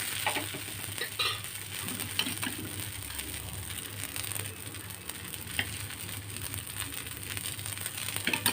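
Dosa batter cooks on a hot pan, giving off a soft, continuous sizzle with faint crackles and light scraping under a low background hum.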